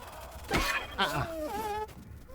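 Bees buzz in Grounded with a close, wavering insect drone that rises and falls in short swells over about two seconds, loud and alone.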